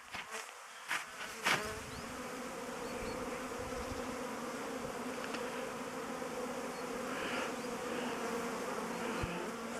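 Buckfast honey bees fly around apiary hives in spring, a steady swarm-like buzz close by after a few brief knocks at the start, with no talk.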